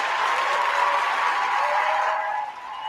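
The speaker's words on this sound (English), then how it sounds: "Round of applause, round of applause." A crowd at a sit-down event with an actor claps and cheers, a loud continuous wash of applause that fades slightly near the end, with no voices standing out.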